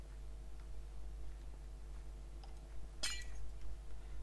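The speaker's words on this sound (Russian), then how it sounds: "А, мы не можем ломать стекло, да?" A single bright clink of glass being struck in Minecraft, a short sharp burst about midway through, standing out over a quiet low game hum.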